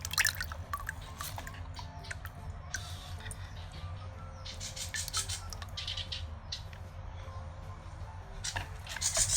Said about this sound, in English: You can see how I am watering it, by the way.